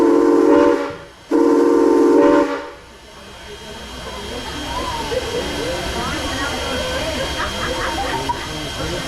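A Strasburg Railroad steam train's whistle sounds two loud blasts before departure, briefly interrupted, then gives way to a steady hiss of steam and busy background noise.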